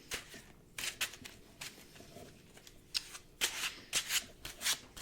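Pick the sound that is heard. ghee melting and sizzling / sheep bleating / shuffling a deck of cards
shuffling a deck of cards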